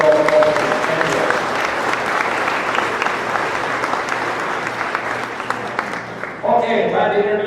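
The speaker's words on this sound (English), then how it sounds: "I'd like a nice round of applause for all three of those folks" A dinner audience at a county fair appreciation event gives a warm, full round of applause for Livestock Hall of Fame honorees, steady throughout, with a voice starting to speak as it ends.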